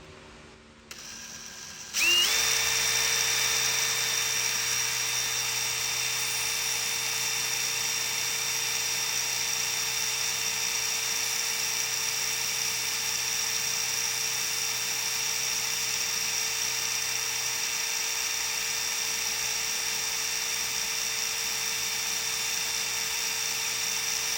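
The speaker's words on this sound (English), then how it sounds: "So, we'll get this drill going again." A high-pitched drill used to clean an LS cylinder head whines up to speed and runs steadily and continuously, a close, sustained mechanical tone with a low hum beneath.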